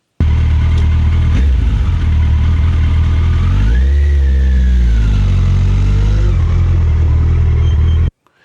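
Motorcycle engine during a hill start: a loud, close-up steady engine drone that revs up for a few seconds, its pitch climbing and then settling back down, and it cuts off abruptly at the end.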